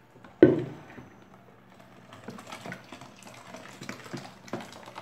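Water is poured from a bottle into a container while making a coconut-based household product, starting with a sharp splash and continuing as a soft, uneven trickle.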